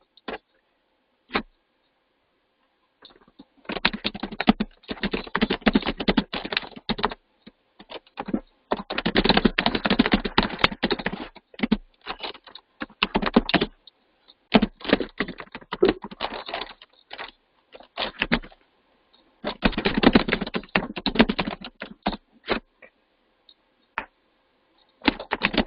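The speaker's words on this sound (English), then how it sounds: "let me type this" Typing on a computer keyboard during an online Java class session, bursts of close, crisp key clicks in irregular runs separated by silent pauses, with no speech.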